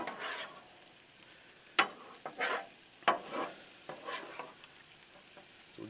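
Steak bites, potatoes and onions sizzle on a Blackstone griddle, a soft steady frying hiss broken by several sharp scrapes and stirring clatters of a spatula, close and fairly quiet with no talk.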